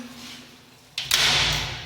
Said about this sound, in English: let me open the door so that you guys can see